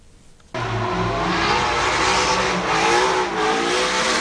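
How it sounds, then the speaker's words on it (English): Muscle cars drift through a sustained loss of traction at the Waimate 50 street race on closed-off streets, a sudden loud blast of roaring engine and squealing tires that holds steady and close. "Muscle cars deliberately undergoing a sustained loss of traction."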